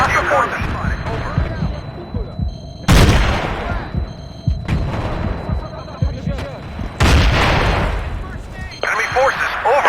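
Battlefield 2 combat with booming frag grenade blasts and heavy gunfire in loud, abrupt bursts, spaced a few seconds apart, over radio-style voice callouts.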